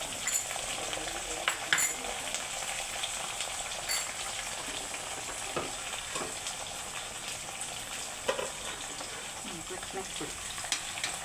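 Curry leaves fry in hot oil with a dense, continuous crackle and scattered sharper pops, fairly close, while a voice briefly speaks over it.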